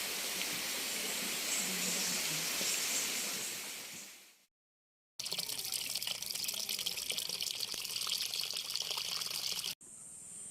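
Water in a stream rushes in a steady, close hiss. It cuts to silence for a moment, returns just as strongly, then breaks off once more.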